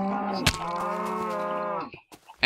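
A Minecraft cow gives one long, loud moo with a steady harmonic tone that bends down at the end. A sharp click lands near its start, and a few faint clicks and a short burst follow after the call.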